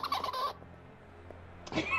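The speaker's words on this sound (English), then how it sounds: "sounds like a rubber duck" Rubber duck-like squeaks in the video game A Way Out, two short bright squeaky bursts separated by a quiet pause, fairly faint against low background hum.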